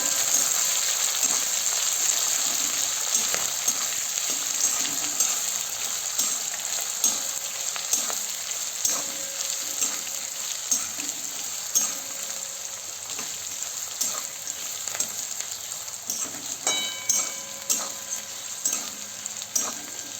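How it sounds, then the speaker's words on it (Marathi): Onion, mustard seeds, green chili and curry leaves fry in hot oil in a pan, a steady bright sizzle with occasional clinks of a stirring spoon throughout. "कांदा आता छान असा थोडासा असा ब्राऊनसर असा तांबूस असा नॉर्मली होईपर्यंत हे आपल्याला असंच परतत राहायचं आहे"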